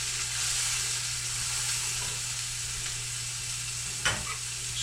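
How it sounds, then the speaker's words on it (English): Burgers and onions fry in a pan with a steady, loud sizzle and hiss that runs throughout, broken near the end by a short scraping stir. "So we got the burgers on one side"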